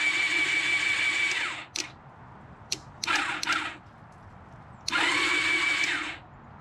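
With the spark plugs out, the starter on a 2000 Honda Magna 750 spins the engine over in three whirring bursts of about one to two seconds each, separated by brief clicks and pauses, close and moderately loud.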